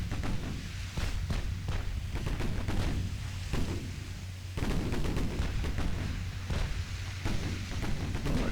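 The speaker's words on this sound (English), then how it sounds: "our 7 and 6 inch guns are doing pretty well on the Berlin at over 10 kilometers range" Warship 7-inch and 6-inch naval guns fire repeatedly in the naval battle game Ultimate Admiral Dreadnoughts, loud booming shots in an irregular salvo rhythm layered over a constant low rumble, with no voices.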